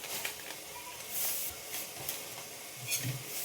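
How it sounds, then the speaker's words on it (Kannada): Spice masala with a little turmeric and biryani-pulao masala frying in oil in a pan for Muslim-style bagara rice, giving a soft, steady hiss and sizzle with faint stirring scrapes throughout. "ಸ್ವಲ್ಪ ಎಣ್ಣೆಯಲ್ಲಿ ಫ್ರೈ ಆಗ್ತಾ ಇರಲಿ"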